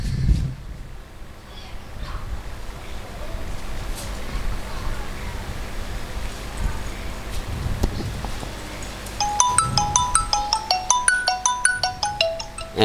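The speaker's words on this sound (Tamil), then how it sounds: "மாமா கிட்ட ஃபோன் பண்ணி கேட்போம் கேட்போம்" Phone ringing tone: a repeating electronic ringtone pattern enters near the end, loud and close after a stretch of background noise and voices, with people talking around it.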